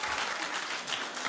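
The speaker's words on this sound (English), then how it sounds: "Do you think Casper should work at Dancing with the Stars? Clap" A talk-show studio audience claps in answer to a host's quick survey question, a brief, even burst of fairly distant applause with no voices over it.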